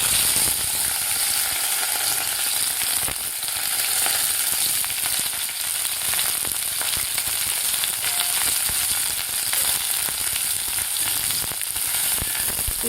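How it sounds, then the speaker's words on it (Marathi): Bitter gourd slices fry in hot oil with a steady, dense sizzle that fills the whole stretch, with occasional faint clicks of stirring and no voices. "आता त्याच तेलामध्ये आपल्याला हे कारलं फ्राय करून घ्यायचं आहे थोडंसं तेलामध्ये."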